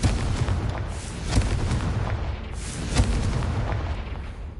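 Confringo blasting spell cast in the video game Hogwarts Legacy on PS5, heard as two booming bursts about a second and a half apart over a dense, rumbling game soundscape.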